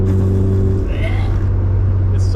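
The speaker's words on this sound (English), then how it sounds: "This 2-hour ride with an exhaust sounding like this." A loud, droning exhaust on a Honda Prelude with 343,000 miles rumbles continuously from inside the moving car, a deep steady growl with a brief rise partway through.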